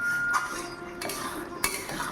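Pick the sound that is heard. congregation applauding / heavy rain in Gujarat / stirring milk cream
stirring milk cream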